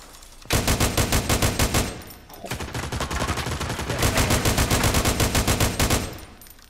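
Automatic gunfire in PUBG rattles out in rapid, loud bursts: one sustained volley, a brief pause, then a longer continuous stream of shots that runs almost to the end.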